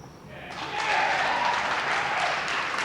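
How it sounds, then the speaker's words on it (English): Steady clapping from the audience at a 1988 high school boys gymnastics meet fills the background, swelling after a brief quieter start and holding at a moderate level. "You hear the clapping in the background."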